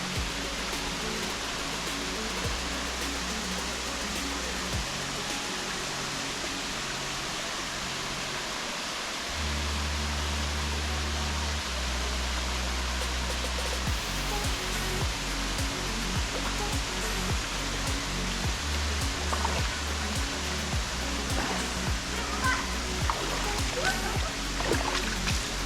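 Akashi Ganga waterfall pours over rock in a steady broadband roar, continuous and fairly loud, with low rumbling and occasional thumps beneath the rushing water.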